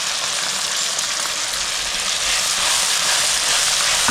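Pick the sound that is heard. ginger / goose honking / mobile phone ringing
ginger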